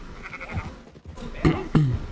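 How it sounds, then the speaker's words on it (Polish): Sheep in the Red Dead Redemption 2 video game bleat a couple of times up close, short wavering calls over a faint background. "Dobra, i z tymi owcami co?"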